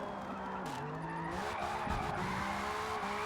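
Car drifting in a racing video game, with continuous loud tire skid and squeal over a droning engine, pitch shifting as the car slides through the corner.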